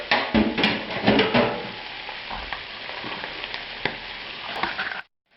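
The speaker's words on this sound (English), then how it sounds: "now finally I'm going to give this the first stir" Meatballs in tomato sauce sizzle and bubble in a pan as a spoon stirs through them, with wet scraping and dense crackling that eases off before cutting out abruptly.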